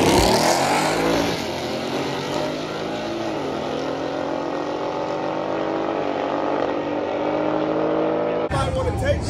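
Drag cars launch at Shadyside Dragway during a test-and-tune session, a loud sustained engine roar with rising revs that holds for several seconds before cutting off abruptly near the end, with talk faintly underneath.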